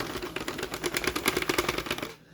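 Rapid mechanical clacking from a 40-needle knitting machine running close by, a quick rattling series of clicks over a couple of seconds before stopping.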